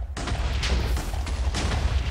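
Minecraft explosions from the video game: a continuous run of loud, overlapping booming blasts with rumbling low end and repeated crackling bursts, close and dense for a couple of seconds.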